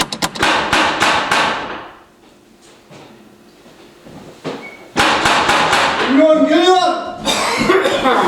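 A quick series of knocks raps on a door, followed by a quieter stretch and then another burst of knocking, with voices and some laughter joining in toward the end.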